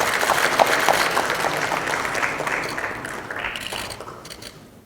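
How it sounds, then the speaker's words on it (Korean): Applause from a crowd at a Korean Democratic Party political negotiation meeting rises briefly and then fades, the clapping thinning out over a few seconds. "정치협상 회의를 잘 이끌어 주십사 다시 한번 힘찬 응원의 박수 부탁드립니다"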